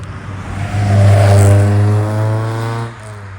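A Mk2 Ford Escort with a rebuilt Zetec engine revs up close and loud, its engine note rising and holding steady for a couple of seconds before dropping back to idle.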